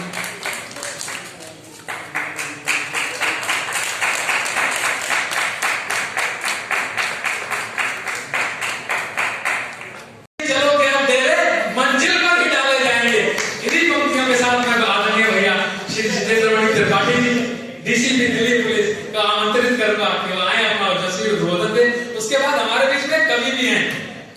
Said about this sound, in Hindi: जोरदार तालियां बजाकर स्वागत करें भाई प्रभात रंजन